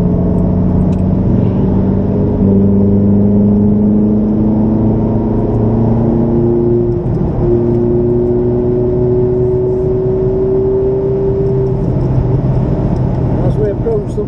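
A Ferrari accelerates hard along the fastest straight of a race circuit, its engine droning steadily with rising pitch and a loud constant cabin rumble, running continuously without a break.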